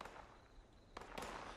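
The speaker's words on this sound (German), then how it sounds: "Ich höre die ganze Zeit Schüsse, aber ich sehe hier niemanden." Distant gunshots in the post-apocalyptic game Fallout 76, faint sharp pops, two or three spaced cracks heard far off over a quiet ambient background.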